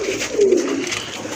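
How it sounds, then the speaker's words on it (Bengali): A single pigeon gives a short, close, soft coo in a pigeon market, with faint background noise. "দেখার মতো এক জোড়া কবুতর"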